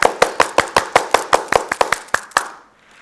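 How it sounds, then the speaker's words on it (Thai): About thirteen sharp hand claps from one person ring out close and loud in a steady, slightly quickening rhythm, then stop, leaving brief quiet. "อยากจะปรบมือดัง ๆให้เลย"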